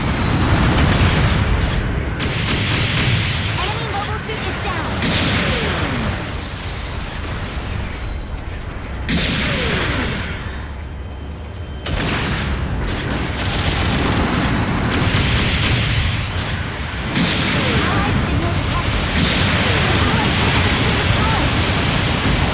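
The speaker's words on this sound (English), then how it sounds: "Long range supporting fire incoming." Long-range artillery supporting fire in the mecha game Gundam Battle Operation 2, a dense barrage of loud booming explosions rolling almost continuously with brief dips, close and overwhelming.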